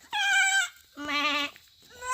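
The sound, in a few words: child imitating goat bleating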